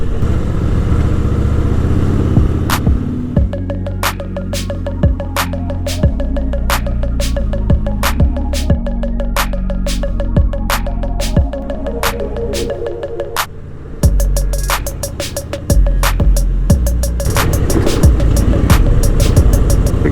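A Harley-Davidson Fat Boy with a 1700cc engine rumbles steadily while being ridden on a Sunday road ride. The low engine drone stays loud and continuous, with repeated sharp clicks and ticks over it.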